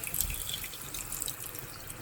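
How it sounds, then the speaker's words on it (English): Low, steady trickle of water running into a pan of egg curry masala, faint and continuous with small splashy ticks, heard alone without speech. "Add just little water now."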